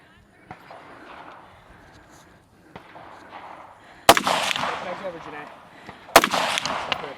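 Two loud rifle shots at a women's elite shooting competition stage, fired near the firing line a couple of seconds apart, each followed by a burst of echo over quiet background chatter.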